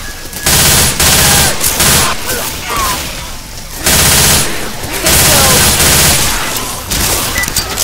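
Heavy sustained gunfire in the zombie shooter Left 4 Dead 2: loud overlapping bursts of rapid shots in several long stretches, broken by brief lulls, with a voice speaking during the action.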